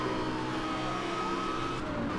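Nissan GT-R R35 racing in Need for Speed: Hot Pursuit, its engine holding a steady, sustained drone with a faint rising whine, loud and close, with no one talking.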